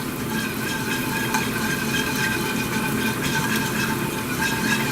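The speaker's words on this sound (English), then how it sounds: "Whisk it until all that butter's melted." Butter being whisked into a lemon beurre blanc sauce in a pan, a dense, continuous, fairly loud hiss and rapid scraping that holds steady throughout, with no clear voices.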